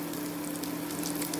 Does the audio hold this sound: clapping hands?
no